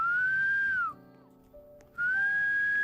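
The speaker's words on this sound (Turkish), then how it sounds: "Birisi ıslık mı çalıyor lan?" A clear, steady whistled tone in a Roblox game holds for about a second, drops away into near silence, then the whistling resumes just as steadily.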